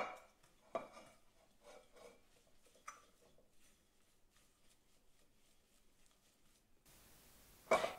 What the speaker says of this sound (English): gradually work it into the flour with a fork